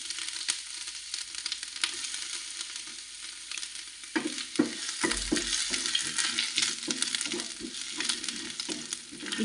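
Chopped ginger fries and is stirred in a pan for a tomato curry, giving a steady bright sizzle with scraping stirs growing louder and busier in the second half.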